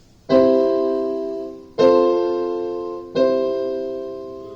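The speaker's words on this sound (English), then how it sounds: "plagal cadence sounds like this." Three sustained chords ring out on a keyboard-like instrument in a plagal cadence, IV to I, each struck cleanly and left to decay slowly, spaced about a second and a half apart with no talking.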